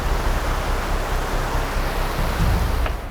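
Fast water in a deep jungle stream in Abujhmarh rushes with a loud, constant broadband roar, close by and uninterrupted, with no voices.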